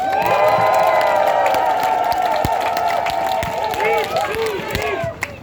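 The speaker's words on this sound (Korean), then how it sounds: "힘있는 박수와 함성으로 모셔보도록 하겠습니다" A crowd at a Sejong mayoral election campaign closing rally claps and cheers loudly, a sustained roar of voices with clapping that runs for several seconds, with shouting voices rising near the end.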